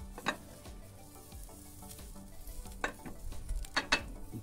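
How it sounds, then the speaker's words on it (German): Sauce for hanging tender steak with salsa is stirred in a pan on a warm grill, giving soft scraping and occasional sharp utensil clicks over a faint low sizzle, close and quiet with no speech. "Zwischendurch können wir immer noch mal die Soße umrühren, weil es natürlich hier vorne wärmer ist als hinten."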